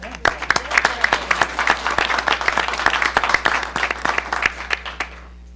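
Board of directors meeting attendees applaud in a room, a steady wash of many hands with sharp individual claps standing out, fairly close and continuous for several seconds before fading out at the end.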